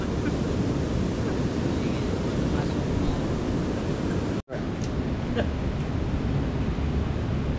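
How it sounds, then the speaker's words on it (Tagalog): Strong ocean waves crash and roar steadily on a beach while wind buffets the microphone, a constant loud surf wash that drops out only for a brief moment. "Bakit malakas ang alon?"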